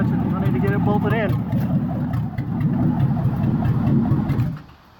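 A Jeep YJ with a swapped-in 350 TBI V8, torque converter not yet bolted in and barely touching, idles with a steady close rumble that drops away near the end, a voice briefly heard over it.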